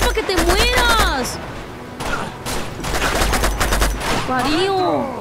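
Bursts of automatic gunfire from the video game Uncharted 2, loud and sustained over several seconds, mixed with excited shouting from a player.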